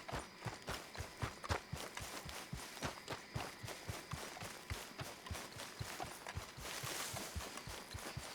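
Horse hooves pound in a steady galloping rhythm in Red Dead Redemption 2, the repeated clip-clop beats fairly soft and continuous throughout.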